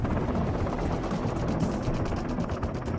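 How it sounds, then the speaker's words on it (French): Helicopter rotors throbbing steadily and loudly throughout, a dense continuous chopping roar with a rhythmic pulse, no voices. "Un des plus gros handicaps dont souffrent les hélicoptères dans les missions de type Eagle Claw, c'est le bruit que font les rotors"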